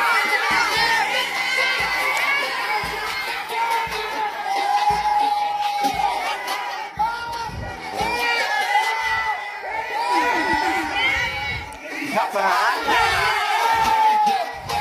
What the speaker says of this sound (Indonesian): Kalau dulu diteriak-teriakan Jokowi, Jokowi, sekarang Ganjar Mahfud.